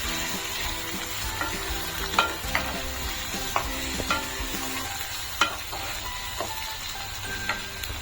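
Egg and potato stir-fry over a high flame, a steady loud sizzle broken by repeated scraping and clacking strokes of a spatula in the pan, with no one speaking.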